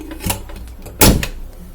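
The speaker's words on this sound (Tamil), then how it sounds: "குக்கரை மூடிவிட்டு" Pressure cooker lid closed in a home kitchen while making green gram rice with coconut milk, two short metallic clunks, the second louder, close by.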